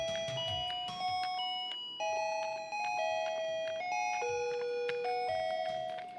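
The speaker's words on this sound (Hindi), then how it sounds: "ये 10 कीज जो आप देख रहे हैं, ये जब आप दबाते हैं तो इसमें से म्यूजिक निकलता है।" Bright electronic tones from a kids' toy electric guitar with a microphone as its keys are pressed, a steady run of beeping notes stepping up and down through a simple tune, loud and close with no talking.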